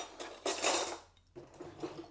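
Metal cutlery clinks and rattles against dishes as someone rummages for a teaspoon, a quick burst of close, bright jangling followed by a softer second round of clatter, with no talking.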